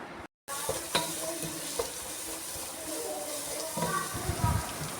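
Kashmiri chili powder and coriander powder get stirred into oil in a pan, a close sizzle with spoon scrapes and a few clanks, briefly cut by a gap near the start, with a voice faintly present.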